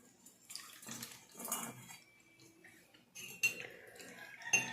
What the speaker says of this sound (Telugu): ఇప్పుడు దీంట్లో నేను పోసి పెట్టేస్తాను